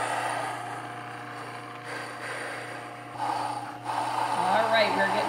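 An electric grain mill grinds wheat into flour with a steady mechanical whir and rasping grind, growing louder and busier toward the end.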